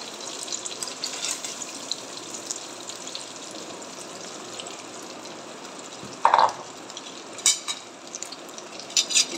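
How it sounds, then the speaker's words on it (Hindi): Paneer frying in a pan for a paneer and capsicum dish, a soft continuous sizzle with occasional clinks and scrapes of a utensil against the pan, no talk. "इसी में हम और बाकी बचा हुआ पनीर डालकर फ्राई कर लेंगे।"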